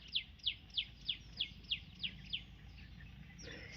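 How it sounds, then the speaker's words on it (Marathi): A single bird repeats a sharp chirp about nine times at an even pace, fairly close, over quiet background hum in the morning, then falls silent. "छान अशी पक्ष्यांचा तेवढा कालवा चाललेला असतो रोज"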